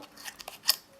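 Scissors snip through a strip of masking tape, a few light crisp cuts ending in one sharper snap, close and quiet with no talk.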